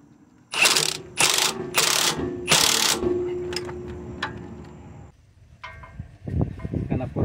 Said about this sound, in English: I'm gonna hold it on this side here with a 17 millimeter wrench.